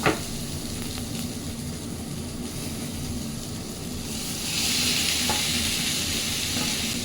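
Paneer cubes frying with onions in a pan give a constant close sizzle, with soft stirring scrapes, and the hiss grows brighter partway through.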